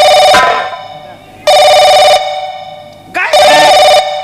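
A telephone rings in loud, close bursts, three long electronic rings separated by short pauses, with a voice briefly audible between them.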